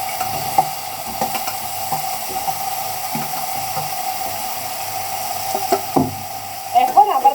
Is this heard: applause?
no